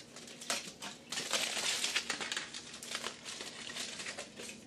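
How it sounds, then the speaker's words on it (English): Aluminium foil is peeled off a hot tray of ribs fresh from the oven, producing soft irregular crinkling and rustling bursts, fairly quiet and close, with no voices over it. "I'm going to go ahead and carefully take the foil off"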